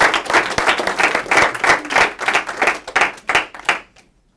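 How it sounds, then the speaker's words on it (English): A live audience claps for a student capstone speaker, a dense burst of applause that swells and then thins out before stopping abruptly near the end. "Let's give him a round of applause"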